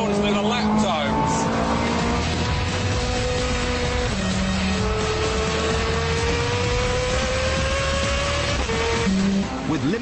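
A Ferrari F430 Scuderia lapping a track, its engine note climbing loud and continuous through repeated gear changes, with a voice speaking over parts of the run.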